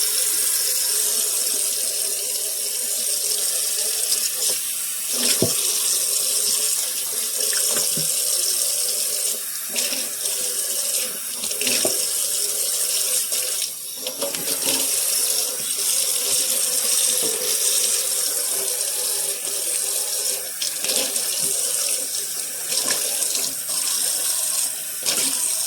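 Tap water runs steadily into a kitchen sink during cleaning, a continuous bright splashing rush with small clinks and knocks scattered through it, no voices.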